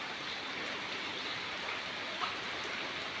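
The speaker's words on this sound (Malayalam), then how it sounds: "ഇത് പത്തനംതിട്ട ജില്ലയിൽ പെയ്യുന്ന മഴയായി കാണിക്കുന്നത്." Rain pouring down in Pathanamthitta district, Kerala, as an even, unbroken wash of falling water, moderately loud, with no speech.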